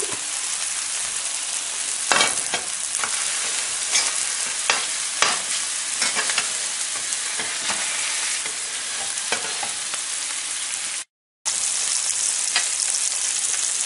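Homemade Italian sausage patties sear in a hot pan with a steady, close sizzle, broken by occasional scraping and clinking as they are moved. There is a short gap of silence near the end.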